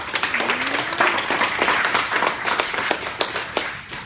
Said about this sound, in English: let's applaud the presenters